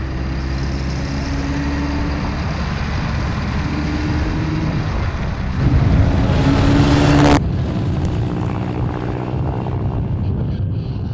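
A 1924 Bentley 3/4.5 Litre vintage car, restored to its original magneto ignition, idles with a steady, deep mechanical drone; the engine revs up briefly midway, then settles back to a constant rumble.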